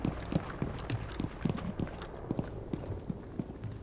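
Footsteps in the tactical shooter Rainbow Six Siege during a pro league match, heard as a steady run of soft, quick thumps over continuous background game noise, moderately close.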